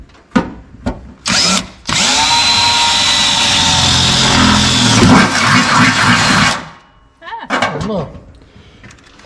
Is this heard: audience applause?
no